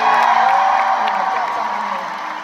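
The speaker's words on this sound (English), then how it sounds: "please give a huge round of applause for my incredible band" Large concert crowd at a show cheering and applauding her band, a loud continuous roar with whoops and clapping that slowly fades, and voices mixed into the noise.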